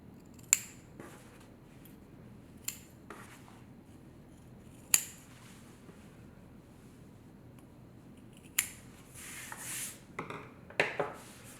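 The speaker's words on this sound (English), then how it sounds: "And before I do that, I'm going to just trim the corners." Sharp scissors snip the corners of stitched fabric in a few separate crisp cuts, spaced apart over a quiet room background, with a quicker cluster of snips near the end.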